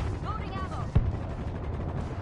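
A single heavy gunshot from a zombie survival video game cracks out once near mid-clip, surrounded by steady game noise and background sound.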